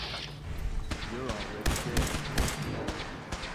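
Rapid bursts of gunfire in Fallout 4 crack out near and loud in uneven volleys with heavy thumps, while someone talks over the shooting.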